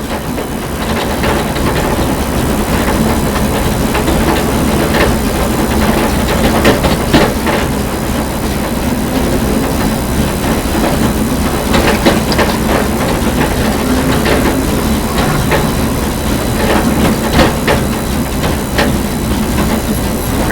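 NASCAR stock car at Daytona speedway, a loud, constant in-car roar of engine and road noise with rattling and rumbling, steady throughout without a clear rise in pitch.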